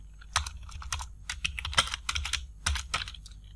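Close, crisp typing on a computer keyboard while entering an Excel formula, a steady run of keystrokes over a low background hum, with no talking.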